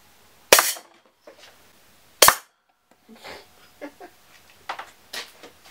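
A potato shot from a metal tank launcher, two sharp loud pops close by, each with a short decay, followed by scattered softer clatters and knocks.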